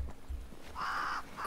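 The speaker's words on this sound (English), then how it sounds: "Crows. They flock to that great tree up there." One or two harsh crow caws from the Banishers: Ghosts of New Eden game world, faint and somewhat distant over quiet background ambience.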